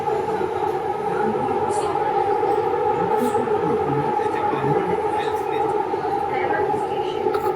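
A Hyderabad metro train in motion, heard from inside the carriage as a steady, fairly loud rolling drone with a sustained tonal hum, continuous and even throughout without breaks.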